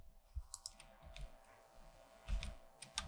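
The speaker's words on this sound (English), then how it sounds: "Yeah, I'm pressing any key" A few sparse computer keyboard key presses, quiet, distinct clicks spaced irregularly with faint room noise between them.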